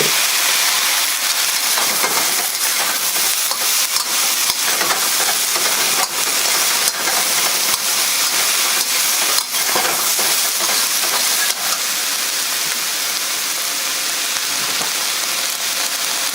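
Soy sauce sizzling hard in a hot pan with Chinese sausage and onions for a stir fry, a loud steady hiss with occasional crackles and stirring scrapes throughout, no voices.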